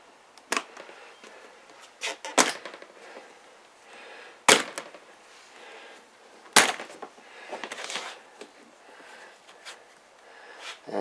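Latches snapping open on a high-quality watertight rifle case, several sharp clicks and clacks spread out over the stretch with quieter handling noises between, close by and without talk.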